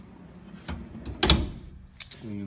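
A deep drawer on a 55-inch Extreme Tools toolbox slides with a short, sharp metallic scrape and clunk midway, amid faint handling noises; a voice starts right at the end.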